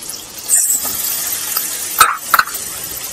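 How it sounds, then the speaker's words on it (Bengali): Chopped green chilies and tomato frying in hot oil, a steady close sizzle with a few sharper crackles and spatters standing out near the end. "এবার আমি কাঁচা লঙ্কা যে 3টে কুচি করে রেখেছিলাম সেটা আমি দিয়ে দিলাম এই তেলেই"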